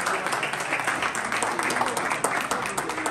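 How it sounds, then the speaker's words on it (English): An in-person audience at an evening networking event gives a steady burst of clapping that fills the room, dense and even for several seconds, with voices faintly mixed in. "Let's clap."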